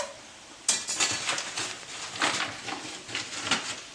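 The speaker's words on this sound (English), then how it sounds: "make sure you're constantly stirring so it doesn't clump up" A utensil scrapes and clinks against a pan as flour is stirred into gravy, making irregular metallic taps and scrapes that go on steadily and close up.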